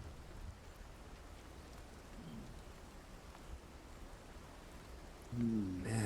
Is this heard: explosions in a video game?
no